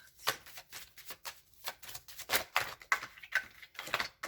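A tarot deck is handled and a card drawn, giving a quick run of light papery flicks and shuffling taps, close and moderately loud, with no talking.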